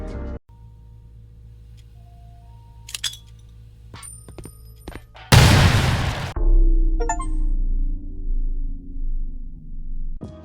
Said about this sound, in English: So I blew up the grenade.